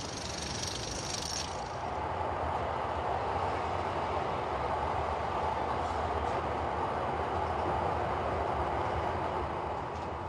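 An electric train arriving at a station rumbles steadily and loudly throughout, a continuous heavy rolling roar with a brief higher hiss at the start and no voices.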